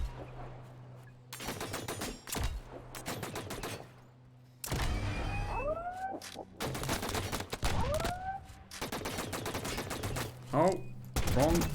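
A turret in the video game Tölva fires in repeated rapid bursts separated by brief pauses, mixed with sweeping electronic whines, moderately loud and close.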